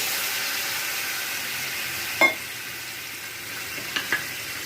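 Boiling water hits a pan of well-fried spice paste, giving a steady close sizzle and hiss that holds throughout, with a sharp splash near the middle and a couple of small clinks toward the end.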